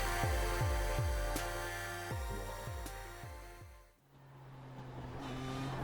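A Nissan race car in the iRacing sim roars around Le Mans, its engine climbing through the revs and dropping sharply at each upshift in a loud, regular sequence, then settling into a steady high drone after a brief dip.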